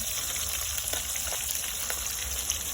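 Fish frying in a pan on a rooftop in cold weather: a steady, even oil sizzle with soft crackling pops, close and continuous with no talk.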